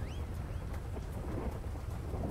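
Steady rain with low rumbling thunder in a game plays as a continuous wash of noise, with a couple of faint whistling tones near the start.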